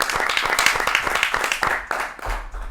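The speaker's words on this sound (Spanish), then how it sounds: "¡Fuerte aplauso, por favor!" A studio audience at the Peruvian Boga Podcast claps and applauds, dense and continuous, then fades near the end.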